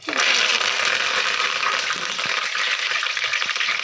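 Crushed ingredients frying lightly in oil in a pan, a dense, bright, steady sizzle close by with faint stirring ticks, no one talking.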